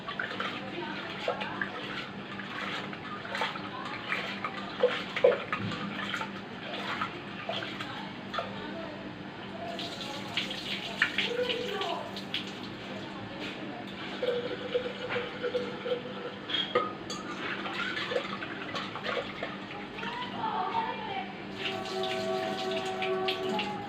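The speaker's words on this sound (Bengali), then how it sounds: "এই যে ডালটা ধুয়ে নিয়েছি" Water runs steadily from a tap while dal lentils are rinsed, a close, continuous splashing wash with scattered drips and clinks, and voices murmur faintly now and then.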